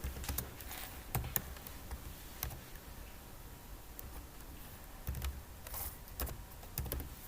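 Sparse keystrokes on a computer keyboard as a name is typed into an online caste certificate application form, with scattered light clicks and short bursts over quiet room noise, no talking.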